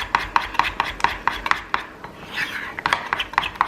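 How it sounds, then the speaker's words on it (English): A utensil scrapes and clinks rhythmically against a bowl while melted chocolate chips are stirred, with repeated sharp taps and rubbing strokes close up. "Just want to stir it around because there's still like chunks of chips in there."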